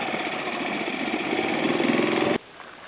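A boat's motor runs steadily at a low idle-like drone while moving slowly through a narrow, twisty Everglades waterway channel, then cuts out abruptly near the end, leaving quieter background.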